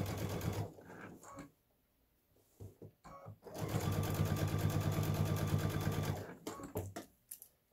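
Domestic sewing machine stitching binding onto a quilt, running in short bursts and then one long steady whirring run of a few seconds, close up, with quiet pauses between stretches.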